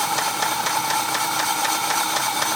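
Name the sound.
bad tapping engine of 2004 Dodge Durango running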